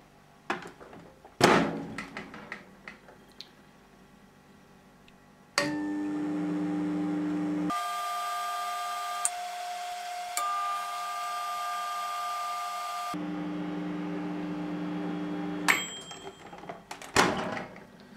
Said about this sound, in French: Et j'y mets au micro-ondes.